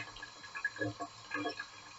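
Water from a tap runs into a sink while a coin and toothbrush are rinsed, a soft, intermittent splashing flow that is fairly quiet and close.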